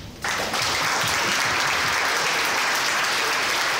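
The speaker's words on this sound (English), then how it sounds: "A round of applause for the team." Sudden burst of loud, dense applause from an audience at a startup pitch event, starting after a brief pause and holding steady as a continuous wash of many clapping hands.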